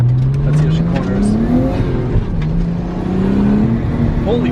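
A turbocharged Nissan Skyline accelerates hard through a corner, heard from inside the car, its engine note climbing steadily in pitch, dipping at a gear change, then rising again over tire and road roar.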